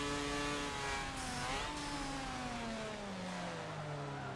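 Mazda RX-7 engine revving in Forza Motorsport 7, a loud continuous rotary drone with a raspy edge, its pitch sliding upward then easing steadily down as the car shifts.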